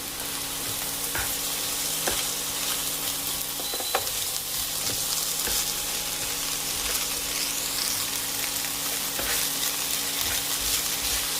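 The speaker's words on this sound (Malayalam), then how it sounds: "അരി ഒന്ന് വറുത്തെടുക്കണം" Rice soaked and drained, with carrots, frying and being stirred in a pan, a steady close sizzle with occasional scrapes and clinks of the spoon throughout, with no voices.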